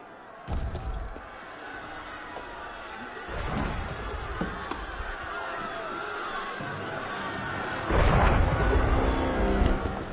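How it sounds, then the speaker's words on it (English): Cannon fire in the video game Assassin's Creed Unity, deep booms and thuds recurring across the stretch, mixed with crowd noise and voices talking over the din. "That was cannon fire."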